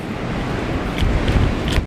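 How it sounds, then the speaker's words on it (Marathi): Strong wind and heavy rain at Nagaon beach make a dense, roaring rush with gusty buffeting on the microphone that grows louder toward the end, with no voices. "वारा सुटला खूप त्यामुळे पावसाची मोठी अशी लाट आली"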